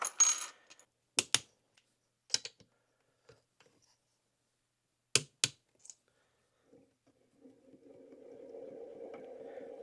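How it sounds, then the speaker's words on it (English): Metal crankcase bolts drop one by one into the engine cases of a 2006 Yamaha YZ250 two-stroke motorcycle, giving sharp close clinks and rattles at irregular intervals, followed by a low steady hum near the end. "We'll go ahead and drop in all the crankcase bolts and get those torqued up"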